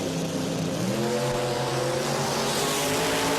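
Drag racing car launching hard down a no-prep strip, a loud sustained engine roar with rising harmonic tones as it pulls away, continuous and close throughout.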